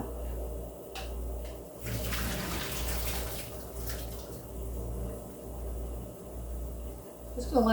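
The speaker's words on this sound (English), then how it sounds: "I'm going to go ahead and strain the squash." Water from strained squash splashes and trickles steadily into a pan in a home kitchen, close and continuous, with a few clatters and knocks of cookware and a brief rush in the middle.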